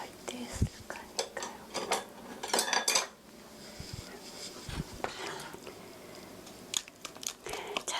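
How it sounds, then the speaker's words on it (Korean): Eggs and olive oil whisked together in a bowl for a cucumber cake batter, irregular clinks and scrapes of utensil against the bowl, close and moderately loud, with uneven pauses. "달걀과 기름이 잘 섞이도록 잘섞어주세요"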